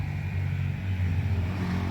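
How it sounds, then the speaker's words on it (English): A four-wheeler ATV's small engine drones steadily nearby, rumbling low as it rides past, with no voices over it. "Sorry about the noise. Somebody's riding a four-wheeler."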